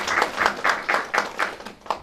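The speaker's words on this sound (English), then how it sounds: "I would request all of you to have a separate round of applause for Rajesh ji for his works." A conference audience gives a round of applause, clapping together in a slow, regular rhythm of about eight claps in two seconds, moderately loud in a hall.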